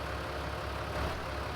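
A tractor engine running in Farming Simulator 19, a steady low rumble at idle or light load, close and constant with no speech over it.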